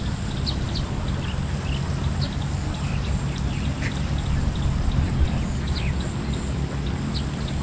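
Ducks in a rice field give faint, scattered quacks over a steady outdoor hiss and low rumble.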